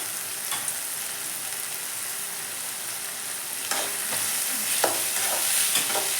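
Onion, cumin seeds and mustard seeds fry in hot oil in a pan, giving a steady close sizzle with scattered spatters and stirring scrapes that grow a little louder toward the end, with no talking.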